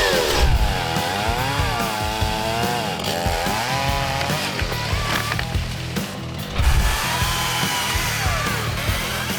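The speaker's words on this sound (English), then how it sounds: "Chainsaw's out, so let's get into it." A chainsaw cutting a fallen log off a bush track near a Y62 Nissan Patrol on Mt Skene, engine revving loud and close throughout with rising and falling pitch as it bites into the wood.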